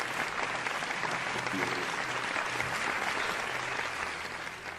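Steady applause from an audience closing out an interview about horror and suspense stories, a dense even wash of clapping held for the full stretch and tapering slightly at the end.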